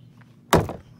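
An old plastic clip pops loose from the inner door panel of a 2006 Toyota Highlander as it is pried off with a trim tool. It makes a single sharp, close snap with a short thunk after it.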